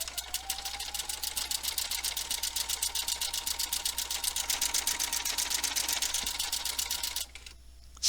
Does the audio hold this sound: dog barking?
no